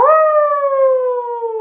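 A person imitates a werewolf howl during a bedtime story, producing one long, loud, steady howl that slowly falls in pitch and is heard close and alone, with no other voices.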